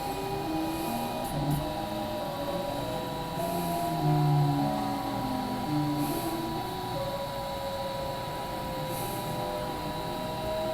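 A 3D printer laying down its first layer slowly, heard as a steady hum with shifting whining stepper-motor tones and a faint background buzz, continuous and fairly close, with no talking.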